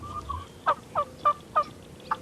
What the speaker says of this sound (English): Listen to those turkeys strut and drum.